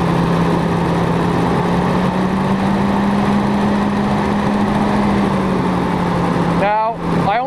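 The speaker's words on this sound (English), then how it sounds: "it will make the engine rev up more and then smoothen out" A BMW engine idles loudly and steadily with a high idle fault while the air flow meter flap is pushed by hand, the pitch holding even before dipping and wavering briefly near the end.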